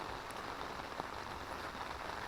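Steady rain falls outdoors in a rural Thai garden plot, a soft continuous hiss with faint patter of drops, moderately quiet and alone with no voices.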